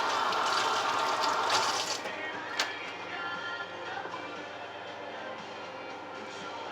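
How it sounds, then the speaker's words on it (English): Tap water runs steadily over hands at a kitchen sink during pumpkin roll baking, a broad close rushing splash that eases slightly after a couple of seconds and carries on evenly. "Wash it off my hands again."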